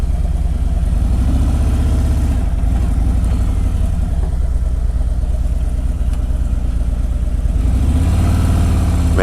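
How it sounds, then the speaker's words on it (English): A 2017 Harley-Davidson Road King Special motorcycle engine runs loudly and steadily up close, a continuous low throbbing rumble that holds even throughout, with no talking. "Man, this motor wants to run."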